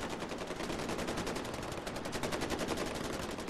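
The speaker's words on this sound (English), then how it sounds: "Stop shooting!" Gunfire in the shooter Far Cry 4: a continuous, rapid automatic burst of shots, loud and dense throughout, with no talking.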